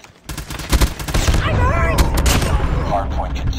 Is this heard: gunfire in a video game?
yes